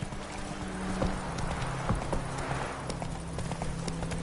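Horse galloping in The Witcher 3, a steady rhythmic clip-clop of hooves at moderate level over ambient game background.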